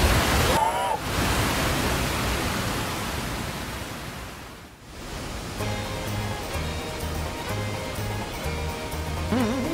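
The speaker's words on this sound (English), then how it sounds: "Whoa! Is this a waterfall?" A rushing waterfall in the video game Super Mario RPG makes a loud, steady roar of falling water, and game music comes in over it partway through.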